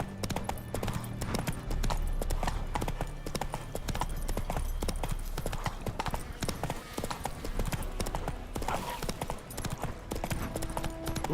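Roach, the horse from The Witcher 3, gallops in fast, continuous hoofbeats over game music, with brief exclamations from a player mixed in.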